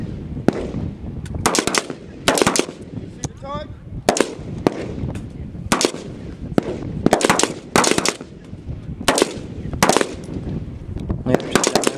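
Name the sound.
rifle gunfire at a shooting range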